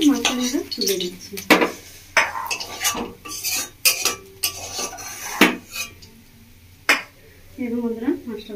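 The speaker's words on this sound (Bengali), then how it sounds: "মাছটা ভাজা হয়ে গেছে, মাছটা আমরা তুলে নিচ্ছি।" Fried rohu fish pieces are lifted out of a pan of oil, with metal utensils clinking and scraping against the pan and a faint sizzle in between, while a person talks over it.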